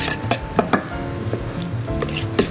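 A spoon scraping and clinking in a bowl while cheese, egg yolk and spinach filling is mixed in a kitchen, with short repeated knocks and rubbing strokes and faint background tones.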